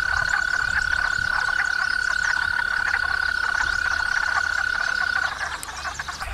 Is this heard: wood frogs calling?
yes